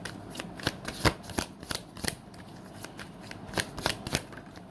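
Tarot cards riffled and shuffled by hand in a quick, irregular series of crisp flutters and snaps, close and fairly soft, with no talking.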